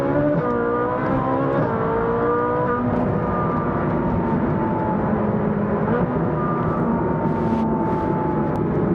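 A Ferrari 458 Spider fitted with an aftermarket exhaust accelerates steadily and loudly up close, its engine tone rising and shifting through the revs with no talking over it.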